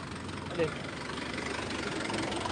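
A tractor engine idles nearby with a low, even rumble that holds throughout, while people talk over it.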